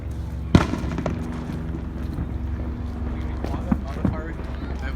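Fireworks go off in the distance: one sharp bang, then two fainter pops a few seconds later, over a low background rumble while people talk nearby.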